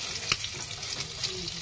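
An egg fries in a pan, giving a soft, continuous sizzle with faint crackling pops. The sound is quiet and brief, with no voices.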